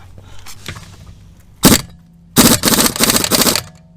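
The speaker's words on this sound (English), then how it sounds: "Wrench slipped." Metallic cracks and clanks as a wrench slips off a seized lug bolt on an Audi A4 Quattro, one sharp bang followed by a rapid burst of rattling impacts, close and loud, with no talking.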